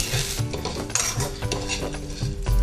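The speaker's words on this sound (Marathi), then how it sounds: "कांदा सुद्धा चांगला भाजला गेला पाहिजे असं करून याला आपण भाजून घ्यायचं" Onion roasting in a pan while being stirred, with a spoon or spatula scraping and clinking against the metal over a steady sizzle, loud and close and continuing throughout.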